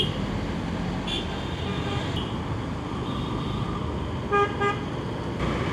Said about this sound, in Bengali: গাড়ি ঘোড়ারও চাপ আছে আজকে